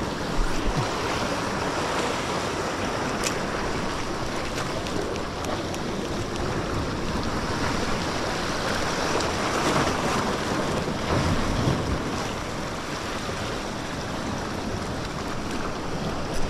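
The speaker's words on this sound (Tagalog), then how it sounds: "Medyo malalaki yung alon, lalo na doon banda." Big ocean waves breaking on a rocky shore during an early fishing trip, a dense, continuous roar of surf mixed with gusting wind noise on the microphone, steady and loud throughout with no clear gaps.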